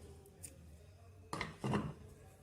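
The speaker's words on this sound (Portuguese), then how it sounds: "eu vou cortar aqui meu fio" Scissors snip through yarn on a crocheted amigurumi Santa piece, two quick close cuts after a short quiet stretch.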